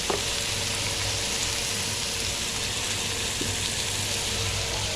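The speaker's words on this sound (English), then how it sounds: "the prawns are almost cooked" Prawns frying in a hot pan, a steady, even sizzle that hisses continuously and fairly loudly with no talking over it.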